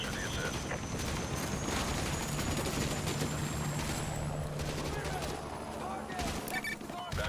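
Dense gunfire and explosions from the video game Modern Warfare 2 Remastered fill the whole stretch, a continuous loud barrage of shots and blasts with a player talking over it.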